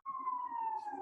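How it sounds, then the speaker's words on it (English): A police or emergency siren wails outside at night, one steady sustained tone holding near-constant pitch, fairly loud and unbroken, with no talking over it. "I'm going to wait for the siren."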